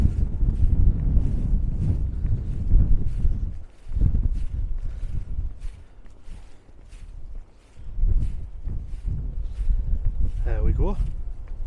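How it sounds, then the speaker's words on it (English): Wind blowing on the coast at Seahouses, a steady broadband rush with gusts buffeting the microphone, rising and dropping in loudness throughout. "Wind's blowing from the south."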